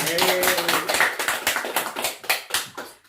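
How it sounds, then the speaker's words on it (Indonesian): Students in a classroom clap their hands together, a loud burst of quick, uneven claps that thins out into scattered individual claps toward the end. "Tepuk tangan semuanya."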